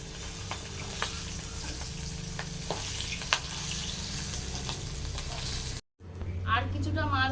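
Swordfish-type fish frying in hot oil, a steady dense sizzle with faint stirring clicks, then a brief cut to a louder sizzle with a low hum beneath.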